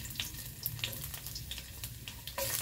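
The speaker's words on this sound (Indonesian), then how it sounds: "Nah ini kita mau goreng bawang putihnya dulu." Garlic fries in hot oil in a wok, giving a soft, continuous sizzle with a few faint crackles and taps over a short stretch.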